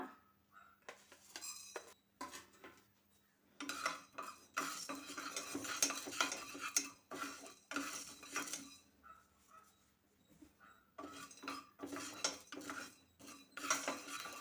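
Cinnamon, cloves, cumin and fennel frying on low flame in a pan for a gravy: a spoon scrapes and clinks against the pan in bursts of stirring, separated by short pauses, with faint sizzling underneath.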